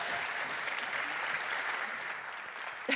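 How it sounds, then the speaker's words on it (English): A conference audience applauds panelists as they leave the stage, a dense, steady wash of clapping from many hands that holds evenly for the whole stretch. "A big round of applause"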